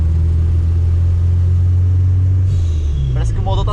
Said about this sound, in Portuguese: Parece que o motor tá se desmontando